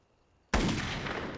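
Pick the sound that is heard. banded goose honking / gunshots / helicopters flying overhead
gunshots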